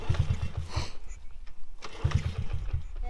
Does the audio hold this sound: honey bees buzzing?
no